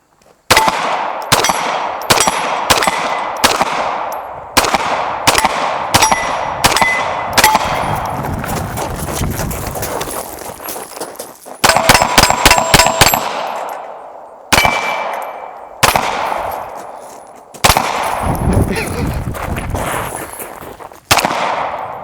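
Rapid pistol shots from a Kimber 2K11 Pro, loud and close, in quick strings with pauses between, with bright metallic clangs ringing off steel targets after the hits.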